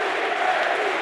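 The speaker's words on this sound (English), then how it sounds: "The fans are booing." A stadium crowd in the Head Ball 2 football game gives a steady, dense roar of booing, loud and continuous for about a second with no break.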